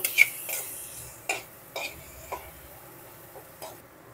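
Turmeric, Kashmiri red chilli powder and coriander powder stirred in a pan while cooking a cauliflower dalna, heard as a few sparse, light scraping and clinking strokes of a spoon against the pan, fairly quiet with gaps between them.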